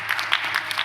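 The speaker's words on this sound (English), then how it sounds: "A round of applause" Audience applause welcoming a speaker at a policy forum, a short steady patter of clapping from a room of people, moderately loud with no talking over it.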